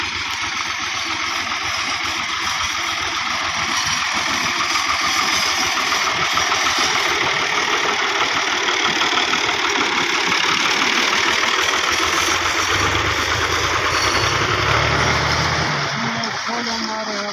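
Motorcycle engine running steadily with the accelerator held, a loud close continuous drone with slight rises in pitch, and voices talking over it.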